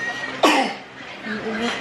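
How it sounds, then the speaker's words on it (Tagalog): A single sharp cough bursts out near the mic, with faint background chatter and rustle before and after. "Inuubo siya."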